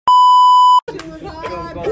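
A phone gives one long steady electronic beep, loud and close, then cuts off as people start talking and background chatter takes over.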